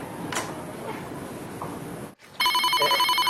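Faint indoor rustling and small taps, then after a brief silence a loud electronic telephone ring starts abruptly and continues.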